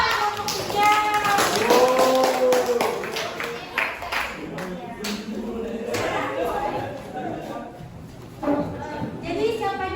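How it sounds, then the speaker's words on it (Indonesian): A group of students claps together in a school classroom after a student teaching presentation, a brisk burst of hand claps mixed with overlapping chatter and speaking voices throughout. "Beri tepuk tangan dulu ya kelompok"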